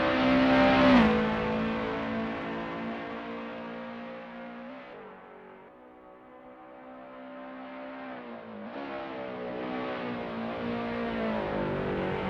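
A classic touring car's engine from the Assetto Corsa sim racing game drones steadily on an out lap of the 1979 Oesterreichring, shifting pitch with gear changes and throttle, easing off mid-clip before building again, loud and alone with no talk.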